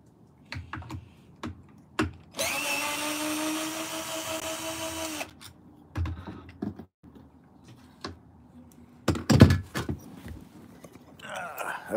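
A power drill backs screws out of an e-bike pedal, giving one steady, fairly loud motor whir of about three seconds, surrounded by scattered clicks, taps and handling clatter.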